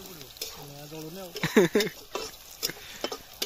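Onions fry in hot oil, crackling and sizzling with a few scraping stirs, while a voice is heard briefly at the start.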